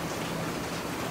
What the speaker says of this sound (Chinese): 突然下那么大雨啊？